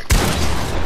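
Gunfire in a shooter game: one loud, close blast at the start, then a dense rattling burst of shots through the rest of the short moment.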